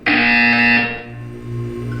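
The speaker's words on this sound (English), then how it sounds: "You will hear a buzzer." A harsh electronic buzzer sounds in the Portal 2 video game, one loud, steady, distorted tone lasting under a second before dropping to a lower hum.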